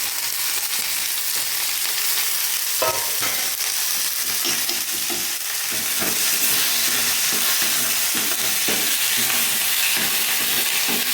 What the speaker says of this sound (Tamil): இப்போ வெங்காயம் போட்டுக்கலாம் வெங்காயம் போட்டு கருவேப்பிலை எல்லாமே ஒன்றாக போட்டுக்கலாம்